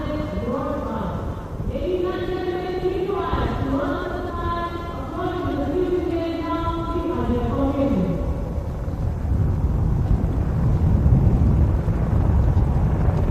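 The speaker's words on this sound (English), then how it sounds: "कर्तव्य पथ के ऊपर पहुंचते हुए 137 हेली स्क्वाड्रन" Helicopters of the 137 Helicopter Squadron fly over Kartavya Path during the Republic Day 2025 parade, a loud steady rotor roar that swells toward the end beneath a commentator's voice.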